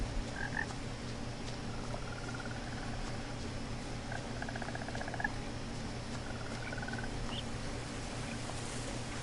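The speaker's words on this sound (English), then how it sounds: "Go back to the frogs." Frogs croak in The Witcher-free swampy setting of What Remains of Edith Finch, with scattered trilling calls and rattling croaks over a steady low ambient hum, fairly faint and spread out across the scene.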